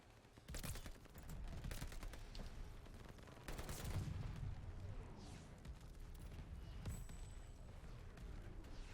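Continuous rapid fire from a PPSh submachine gun in the shooter game Call of Duty: Vanguard, dense crackling bursts running nearly unbroken with loud booming impacts throughout.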